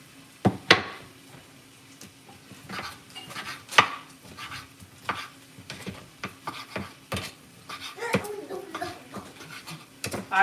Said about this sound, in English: the one that I left on the stove, y'all, I'm chopping up now